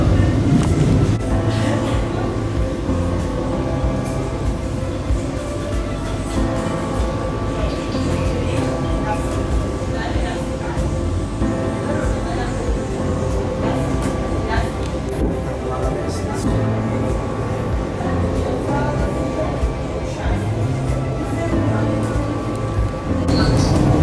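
Marmaray commuter train running out of Halkalı on the Halkalı–Gebze line, a steady loud cabin rumble and hum of the moving carriage, with voices talking over it.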